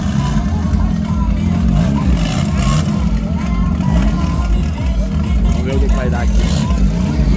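Two VW Gol Turbo cars idle and rumble at a 201-metre, eighth-mile drag strip, a low steady engine drone with slight revving, heard beneath someone talking close by.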